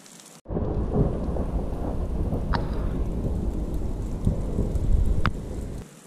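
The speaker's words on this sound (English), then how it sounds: "Some good sized chunks of hail coming down." Heavy hail and rain pounding rocks at Gilbert Lake, Onion Valley, in the Eastern Sierra, a dense, steady roar with a couple of sharp cracking hits standing out.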